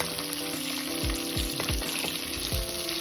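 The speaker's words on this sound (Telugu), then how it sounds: "రెండు వైపులా ఎర్రగా వేగనివ్వాలి." Chicken leg pieces fry in hot oil with a steady crackling sizzle, broken by several soft thumps and scrapes as they are turned.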